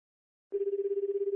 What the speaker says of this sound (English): Oh, the dial tone.